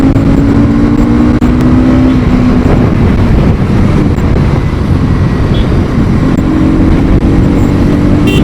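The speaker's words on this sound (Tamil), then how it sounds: "நம்மளுக்கு கேப் கிடைச்சா ஒரு சின்ன த்ராட்டில் பண்ணி பார்க்கலாம்" Pulsar NS200 2025 200cc motorcycle engine running steadily under wind rush while riding, a low droning tone that rises slightly, loud and continuous without a distinct sharp rev.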